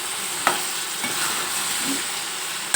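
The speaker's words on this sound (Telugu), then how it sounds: "చూడండి ఎలా కలుపుతున్నాం" Salt being stirred into a mango and brinjal curry in a pan, a steady close sizzle and scrape with a few sharp spoon knocks against the metal, no voices.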